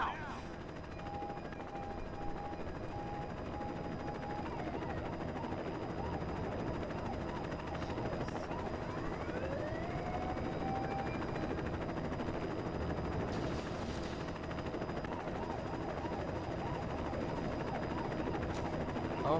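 A helicopter in the Saints Row video game gives off a continuous droning whir throughout, with faint scattered gunfire and game effects mixed in.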